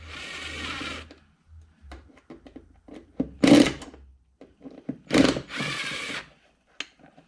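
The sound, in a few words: screws being taken back out of boat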